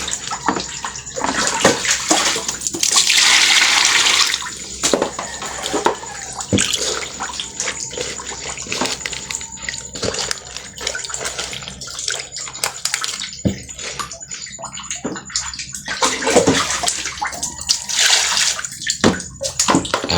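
Water splashes and pours over rice in a pot in several bursts, with sloshing and clinking between pours, close and fairly loud.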